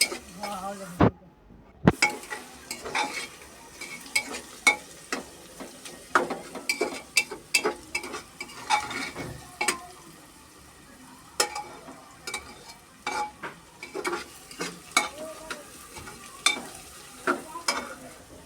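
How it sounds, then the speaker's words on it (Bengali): Onions stirred and frying in a pan for mutton bhuna, a soft sizzle beneath repeated scrapes and knocks of a spoon against the pot, uneven and close, with no talking. "আমার এখন পেঁয়াজটিকে ভালোভাবে নেড়ে মজিয়ে নেবে"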